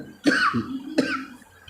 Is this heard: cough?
yes